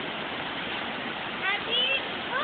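River water rushes and splashes steadily at Bulusan in Bicol, a close, continuous broadband wash with slight surges near the end.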